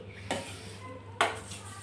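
Spinach dal tempering sizzles in a pan, a steady low frying hiss punctuated by two sharp bursts where something is stirred or dropped in, close and moderately quiet with no talking.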